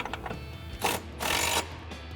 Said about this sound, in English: we're going to tighten down our upper bracket bolt with our 13 mil socket.